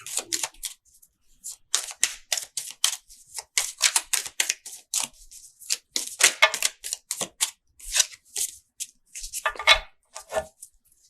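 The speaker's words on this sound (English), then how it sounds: "Just make sure I give them a good shuffle." Tarot cards being shuffled by hand, a close, fairly quiet run of crisp papery flicks and snaps in irregular bursts with short pauses between them.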